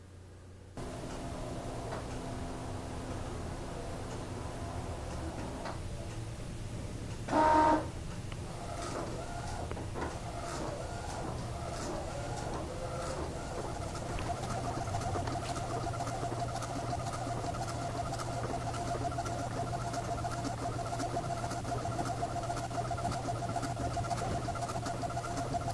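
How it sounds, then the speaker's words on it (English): A photo lab printer works through a print job, producing a quiet steady mechanical hum with rapid ticking and clicking. A brief louder clunk comes early, and the rhythmic tapping continues to the end. "It is now being sent to the printer to be printed."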